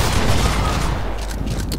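Gunfire in the Fortnite battle royale game, a dense burst of rapid shots and booms packed tightly together, loud and close throughout.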